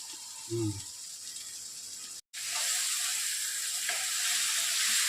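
A dried fish and tomato curry frying in a pan gives a steady sizzle with a short thud near the start, a brief dropout in the middle, and then a fuller, louder hiss.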